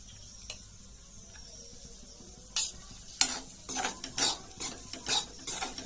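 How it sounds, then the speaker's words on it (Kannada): Wheat flour roasting in ghee for halwa, with a quiet sizzle at first, then close, irregular scraping and clinking as a spoon stirs against the pan. "ಇದಕ್ಕೆ ತುಪ್ಪ ಹಾಕಿ ಹುರ್ಕೋಬೇಕ್ರಿ"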